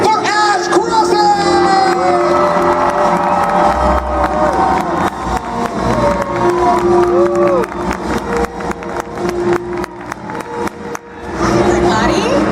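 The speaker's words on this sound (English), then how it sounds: "Clap and scream for Ash Crossing!" A convention panel audience erupts in loud, sustained clapping and cheering, with whoops and scattered shouts rising over a steady crowd roar for the full stretch before easing at the end.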